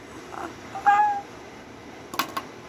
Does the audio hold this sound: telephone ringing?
no